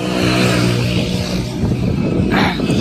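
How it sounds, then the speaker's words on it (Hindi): Motorbikes of a Dak Kanwar group roar past on a road during the Kanwar yatra, loud revving engines sweeping by close up with no talk. "देखिए यहाँ पर किस प्रकार यहाँ पर बाइकें गुजर रही हैं"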